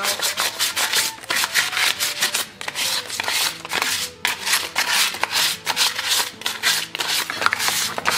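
Sandpaper scrubbing across a wooden Norse-style headboard in fast, repeated back-and-forth strokes, a close, steady rasping friction with brief pauses between passes and no talking.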